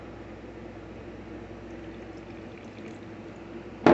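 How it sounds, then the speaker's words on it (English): Ice water is poured a little at a time into a dough mixture, a low steady liquid pour with faint splashing that ends in a sharp knock. "I'm going to keep adding water until I have a ball of dough"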